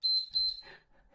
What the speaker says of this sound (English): Turn that awful beep off